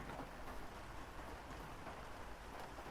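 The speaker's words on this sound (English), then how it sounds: "I'm just sitting here, listening to the rain" Steady rain falls and patters on surfaces in a soft continuous hiss, faint and even with no voices.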